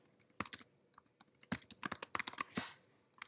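Java code being typed on a computer keyboard, with quiet, irregular clicking keystrokes coming in short, close bursts.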